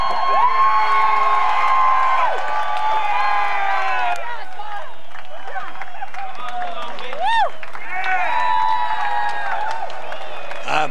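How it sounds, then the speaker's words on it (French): A crowd cheers and whoops loudly throughout at the 2008 NAPA Auto Parts 100 car race, with scattered shouts and high-pitched cries rising above the roar. "Écoutez la foule!"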